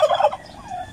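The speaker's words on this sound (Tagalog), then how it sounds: "maraming gala dito ng turkey po ito, turkey pabo" Turkeys gobble close by, a loud rapid burst of warbling calls followed by softer gobbling that trails off.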